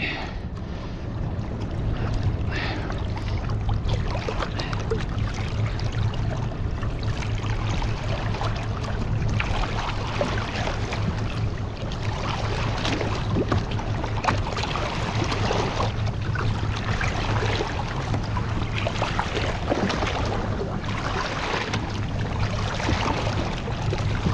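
A fishing boat's motor runs in gear on open ocean water during an inshore trip off Florida, a steady low engine hum blended with constant wind and water noise throughout.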